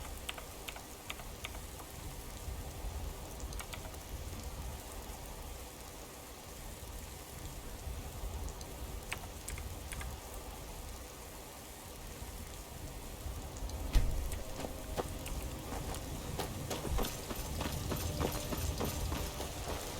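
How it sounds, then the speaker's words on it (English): Steady rain falls in the Skyrim video game, a soft, even wash of patter that holds at a moderate level throughout, with a few faint clopping taps mixed in and no talking. "that might have something to do with the rain"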